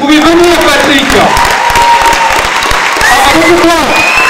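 An audience at a film premiere at the Capitole claps loudly and steadily, with voices and a few cheers mixed into the dense clatter throughout.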